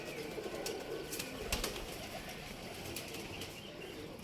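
A tired pigeon of the Golden Teddy cross breed flutters its wings in short flaps against steady outdoor background noise, with no talk.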